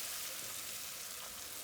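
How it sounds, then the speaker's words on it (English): Butter sizzling as it is stirred into hot homemade caramel on low heat, a steady soft hiss of frying with fine crackle, continuous and fairly quiet throughout. "the butter is going to sizzle up a little bit"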